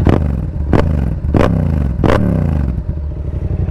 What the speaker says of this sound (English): Just a few light blips.